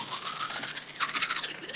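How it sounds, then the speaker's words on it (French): A toothbrush scrubbing steadily and close up, a rapid raspy bristle sound that repeats in a quick brushing rhythm for under two seconds, with no voices. "Là, on entend la brosse à dents."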